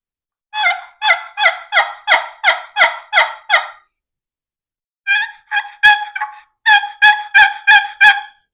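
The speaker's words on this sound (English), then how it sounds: "This one is a Lynch long beard turkey call, model 150." A Lynch Long Beard model 150 wooden box turkey call is worked by hand, producing two loud close series of rhythmic yelps, about eight evenly spaced notes, then a short pause and a second run.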